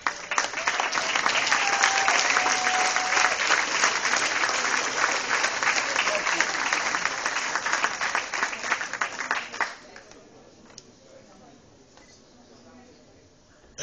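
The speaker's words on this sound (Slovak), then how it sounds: "Ešte veľký potlesk, dámy a páni." Loud, sustained audience applause fills a competition hall at the Amber Prix Olympia bodybuilding event, a dense wash of clapping lasting about ten seconds before fading to a quieter murmur of the crowd.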